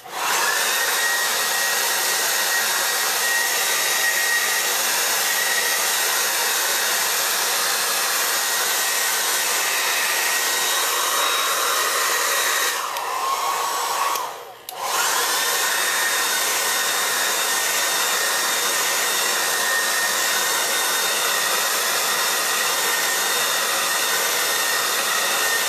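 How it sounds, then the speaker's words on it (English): A faulty hair dryer drones loudly and steadily throughout, with a brief dip in the whir partway through before it resumes at full strength. "The hairdryer's not working too good"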